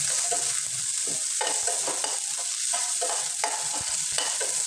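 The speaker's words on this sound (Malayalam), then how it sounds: "ഇനി നമുക്കതൊന്ന് ഇളക്കി കൊടുക്കാം. അതിനകത്ത് നമുക്ക് ഒരു തണ്ട് കരിയാപ്പിലയും കൊടുക്കാം." Onions fry in a pan with a sprig of curry leaves while a spoon stirs them, giving a steady close sizzle broken by repeated scraping strokes, with no talking.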